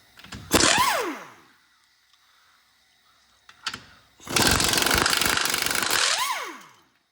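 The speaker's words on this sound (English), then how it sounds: "you're going to take a 17 mil socket. Just take the 3 nuts out." Removing three nuts with a 17 mm socket, likely on a power tool, while lifting a jacked-up Toyota/Scion 2.4L engine during a head gasket job. A short whir with a falling pitch sweep, a brief clunk, then a longer loud buzzing run that winds down.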